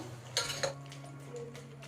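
Mutton curry is mixed in a pot, with a few sharp metal clinks of the spoon against the vessel over a low steady background.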